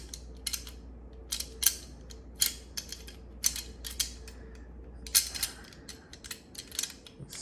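Metal parts of a Ruger Mini 14 rifle click and clack as the bolt is worked forward and pulled out, a series of sharp, close, irregular metallic clicks over a low steady hum.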